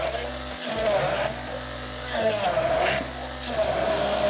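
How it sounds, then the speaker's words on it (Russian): A blender whirs loudly and steadily, its motor pitch rising and falling in a few surges as it purees kiwi. "И тоже пробиваем блендером."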